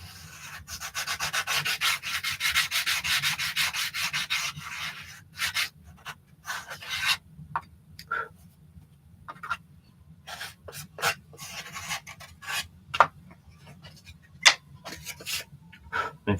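A wooden former is sanded by hand, with a steady close rasping rub for several seconds that then breaks into short separate strokes with pauses between them.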